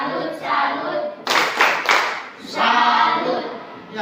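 A group of children and adults clap a rhythmic salute clap together in a classroom, with loud bursts of hand claps over a couple of seconds.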